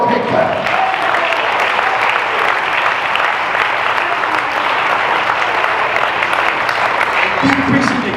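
A church congregation claps together during a sermon, a loud, sustained wash of hand claps that holds steady throughout, with voices mixed faintly into the applause.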